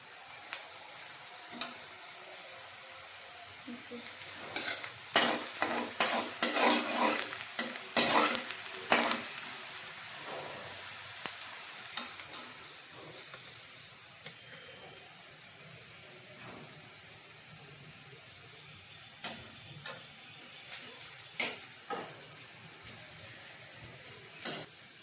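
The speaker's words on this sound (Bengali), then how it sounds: "দেখো পেঁয়াজগুলো ভাজা হয়ে গেছে আমার।" Onions frying in a pan with salt, turmeric and spice paste for doi katla, soft continuous sizzling broken by bursts of scraping stirring strokes, busiest in the middle and again toward the end.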